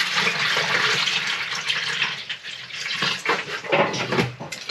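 An RV toilet flushes water down into its waste tank, a rushing gurgle of water that swells and surges in bursts before tapering off, heard alone at close range.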